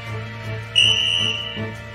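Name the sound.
referee whistle blowing at hockey face-off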